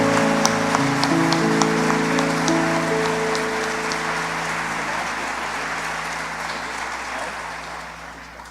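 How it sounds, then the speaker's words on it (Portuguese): Church congregation at a worship service applauds loudly, a dense wash of clapping that holds steady and fades slightly toward the end while sustained organ-like tones ring beneath it early on. "Então vamos dar um forte aplauso ao nosso Deus nessa noite."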